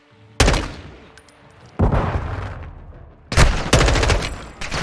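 Loud, dense bursts of gunfire from a Modern Warfare 2 game firefight crackle in several long volleys, each starting abruptly and rolling on with rapid overlapping shots.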